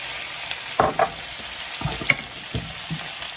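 Olive oil sizzles and crackles steadily in a pan of green beans, with a few sharper stirring scrapes and clinks cutting through the constant hiss.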